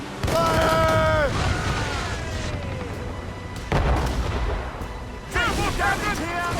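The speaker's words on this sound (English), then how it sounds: "We should fire our mortars, Captain!" Ship mortars aboard a sailing warship fire in Assassin's Creed Rogue, three heavy booms spaced a couple of seconds apart, loud and close, with crew voices shouting between them.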